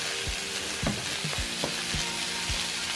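Onion and garlic fry in pure mustard oil with a dense, steady sizzle, broken by a few soft knocks as the pan is stirred.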